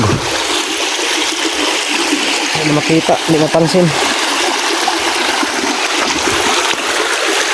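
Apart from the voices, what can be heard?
fast flowing river current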